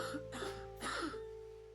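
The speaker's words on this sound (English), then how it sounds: "You coughed up blood." A character in the horror game The Dark Rites of Arkham coughs, two or three harsh, close coughs in quick succession over a steady low game drone, then the hum carries on alone.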